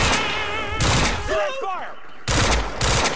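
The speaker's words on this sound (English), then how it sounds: "I'm gonna shoot you first" Gunfire in the Quantum Break video game: loud bursts of shots at the start and again near the end, with a voice speaking in the quieter middle stretch.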